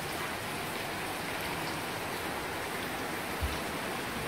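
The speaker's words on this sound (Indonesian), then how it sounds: "Hujan tidak henti-henti kawan. Berapa jam tiada henti." Heavy nonstop rain pouring down around a house during a flood, a steady dense hiss with no letup, close and even throughout, with one brief low thump near the end.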